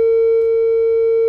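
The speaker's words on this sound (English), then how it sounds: "that's a basic sine wave" A steady synthesized sine-wave tone, like a TV station's sign-off signal, holds loud and unbroken at a single pitch throughout.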